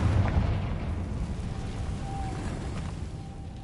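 In the Hogwarts Legacy video game, a Confringo blasting spell explodes into a deep, rolling rumble that slowly fades, a dull booming roar with faint crackles on top.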